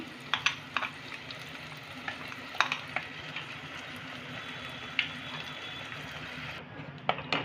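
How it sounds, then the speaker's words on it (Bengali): Spice paste for a Bengali egg curry frying in a pan over low heat, a steady close sizzle with intermittent clinks and scrapes of a spoon stirring. "আমি এবার মশলাটাকে এক মিনিটের মতন একটু কষে নেবো"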